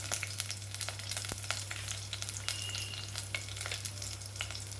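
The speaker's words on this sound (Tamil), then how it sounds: "ஒரு பெரிய வெங்காயத்தை கட் பண்ணி வச்சுருக்கேன் வெங்காயம் வதங்கட்டும்" Chopped onion sautés in a pan, a faint, steady crackle with scattered small pops and a low hum underneath, no voices.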